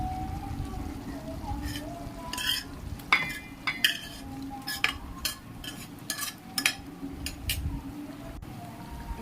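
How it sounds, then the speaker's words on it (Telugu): A spoon scrapes and clinks against a pan while paneer curry gravy is stirred so it won't stick to the bottom, with irregular knocks over a low simmering background. "మధ్య మధ్యలో అడుగంటకుండా తిప్పుతున్నాను"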